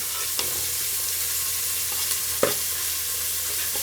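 Finely chopped onions frying in oil in a pan for egg biryani, a steady close sizzle with a few brief stirring clinks, no talking.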